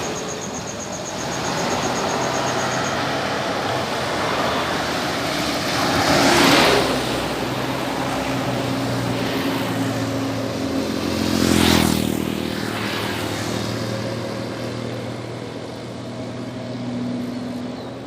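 A Medan Jaya Simalem bus arrives at the Pekanbaru bus terminal, its engine a continuous near rumble with two swelling surges of revving and passing-vehicle noise, plus a brief high tone near the start.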